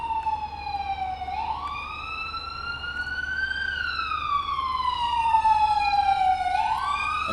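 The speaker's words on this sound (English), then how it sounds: "you will constantly hear the bloody sirens" Police car sirens wail continuously during a pursuit in the Roblox game Clark County, a steady rising and falling tone over a constant low engine rumble, loud and close with no talk.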